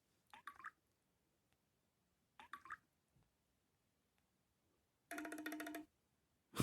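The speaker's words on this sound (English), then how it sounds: "This is what you call a drip" Huawei phone ringtone called Drip, playing soft, close water-drop-like plinks in small clusters separated by silence, followed by a brighter, louder burst near the end.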